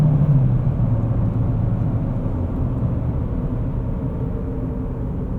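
A 2026 GMC Terrain AT4 engine drones steadily at high RPM, a continuous low rumble heard from inside the cabin, loud and unbroken with no talking.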